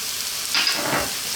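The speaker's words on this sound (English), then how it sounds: "We're now going to add in our onion and our garlic." Onion and garlic hit a hot pan for a vegan eggplant tomato pasta, giving a short, moderate sizzle that swells briefly with a stir before settling.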